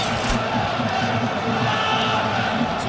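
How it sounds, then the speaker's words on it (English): A boxing crowd roars steadily throughout as Tomas Adamek opens the fifth round against Goral, the arena noise dense and unbroken at a fairly loud level. "Tomas Adamek gets off first in the fifth round, and the crowd once again roars for that"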